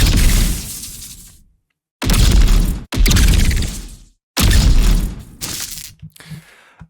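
Designed magic staff shot impacts for an Arcane redesign: several loud, crackling, debris-heavy blasts with sharp attacks and shattering tails, separated by short silences, the last one breaking into scattered fading crackles.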